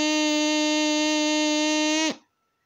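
A homemade straw flute is blown in one sustained, loud, reedy buzzing tone that holds steady for about two seconds, then cuts off abruptly.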